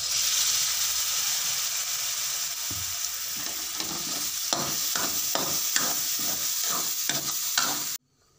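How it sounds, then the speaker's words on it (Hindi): Blended spinach puree sizzles steadily in a hot pan while a utensil stirs it in repeated rhythmic strokes, close and fairly loud. "अब इसमें हम जो ये पालक जो इसको मिक्सर चलाए हैं, ये भी इसमें डाल देंगे।"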